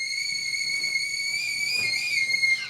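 A sustained high-pitched whistle holds steady and loud throughout, rising slightly in pitch near the end, like a kettle at full boil.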